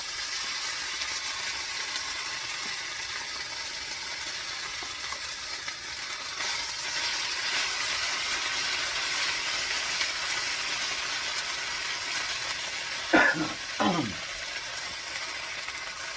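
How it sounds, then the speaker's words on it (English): Potatoes frying in a pan give a steady, even sizzle that runs the whole time at moderate level, with two brief sharp scraping clinks near the end and no talk. "we're going to plop our taters. Maybe. And fry those up in here."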